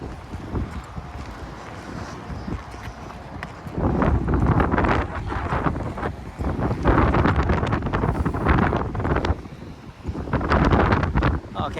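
Gusty wind buffets the microphone while walking outdoors along Signet Drive in North York, Toronto, a steady rumbling roar that swells louder in the middle and again near the end, with no talking.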